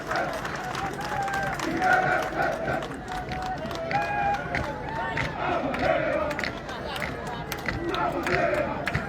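A crowd cheers and shouts at a gendarmerie ceremony in Niger as combat sport soldiers withdraw, with dense, continuous noise of voices and scattered clapping rising and falling across the whole stretch, fairly loud.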